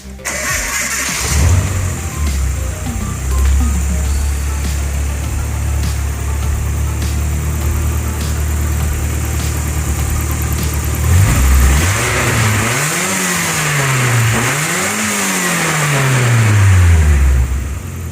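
A Nissan 240SX engine, just reassembled with a replacement set of injectors, cranks and fires, settles into a steady idle, then revs up and down in several rising and falling sweeps, loud and close with no talking.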